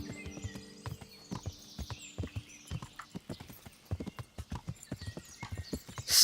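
Hooves clip-clop in an uneven walking rhythm as a horse moves close by in Kingdom Come: Deliverance, with a few whinnies rising over the footfalls and a brief louder burst at the very end.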